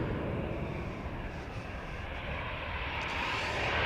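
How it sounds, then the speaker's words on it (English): A Cathay Pacific Boeing 747 taxis for departure at Amsterdam Schiphol Airport, its jet engines a steady broad rumbling roar that swells slightly toward the end, heard from a distance with no voices. "Cathay 747 is on the move for departure to Frankfurt"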